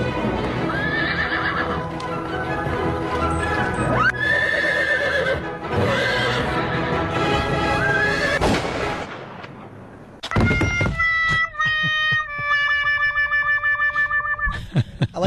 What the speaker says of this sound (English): the whole time the horse was running in that clip, it was whinnying